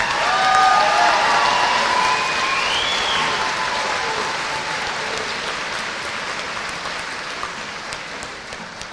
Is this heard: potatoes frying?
no